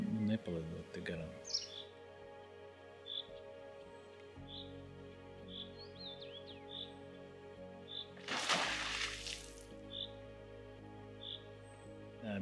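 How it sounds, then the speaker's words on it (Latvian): A beaver slaps its tail on river water, one sharp, loud splash standing out against quiet chirping birdsong. "kad ienirst un uzdauza rasti pa ūdeni, viņi brīdina citus bebrus, ka te ir kaut kāds nelūktais viesis"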